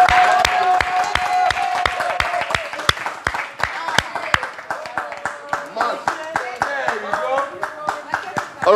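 An audience at a contestant task show breaks into steady applause, many hands clapping sharply and close up for several seconds while voices and faint music run underneath.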